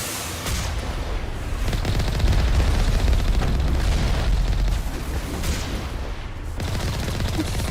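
Artillery in the Mass Effect game rumbles as a dense, continuous barrage of booms and crackling bursts, loud and sustained, without any voices.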